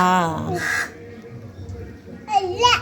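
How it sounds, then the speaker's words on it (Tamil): A crow caws a couple of times near a house, partly overlapped by children's voices and an adult talking. "போகுது பாரு காக்கா தூக்கிட்டு போயிடும்"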